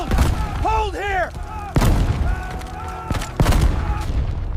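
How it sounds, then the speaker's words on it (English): Mortar rounds burst close by on a battlefield, with heavy booms landing around 1.7 and 3.4 seconds over a constant rumble of gunfire, while voices shout over the din. "A mortar round lands close."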